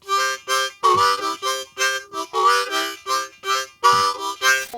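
Blues harmonica phrase of quick repeated notes in a bouncing rhythm, closely miked and fairly loud, played alone without talk.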